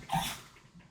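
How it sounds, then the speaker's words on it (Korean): A pet dog whines to be picked up, giving one short, fairly close whimpering yelp at the start that fades into quiet. "저희 집 강아지가 지금 안아달라고 와가지고 옆에서 찡찡거리는데"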